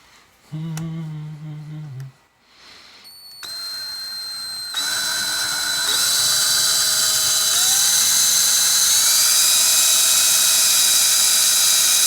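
Power drill spinning a screw extractor bit into a stuck screw, a steady high whine that starts in short bursts and then runs continuously and loudly, rising slightly in pitch, with no talk.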